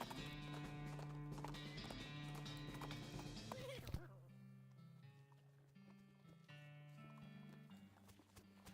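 A horse gallops in the West of Loathing game, steady clip-clop hoofbeats under background music, with a brief neigh and a break partway through.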